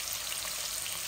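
Potatoes frying in a pan for a Bangladeshi chicken and potato curry, giving a steady, fairly loud, hissing sizzle close up with no talking.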